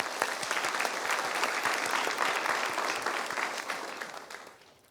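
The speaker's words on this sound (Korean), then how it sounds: "우리 모두에게 다 같이 박수를 치면서 시작하면 어떨까 합니다." A conference audience applauds together at the opening of an education conference, dense sustained clapping filling the hall for several seconds before tapering off at the end.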